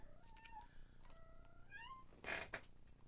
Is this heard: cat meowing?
yes